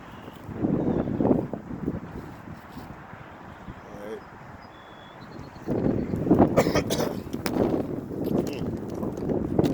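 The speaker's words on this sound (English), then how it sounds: "It's a little windy too, so bear with me" Gusts of wind buffet the microphone in rough bursts, easing in the middle before returning strongly.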